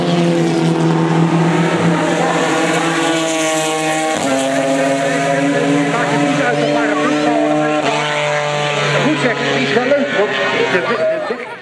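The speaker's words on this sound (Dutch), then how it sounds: "Serieus hard van de raceauto en de gewone auto." Race car driving fast at a city race demo in Assen, its engine a loud, steady tonal roar with shifting pitch, joined by ordinary road car engines, with people talking over it throughout.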